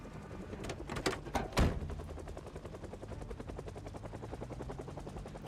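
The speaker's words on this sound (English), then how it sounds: "I hear a helicopter." Helicopter in the zombie survival game Project Zomboid, a steady fast rotor chop thrumming throughout after a few sharp bangs at the start, moderately loud and continuous.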